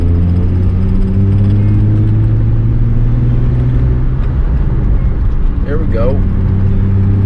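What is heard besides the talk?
Nissan 350z manual car engine accelerating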